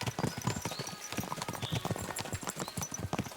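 Horse hooves clip-clopping in a video game, a quick rhythmic series of hoof strikes close up, steady and continuous with no talk.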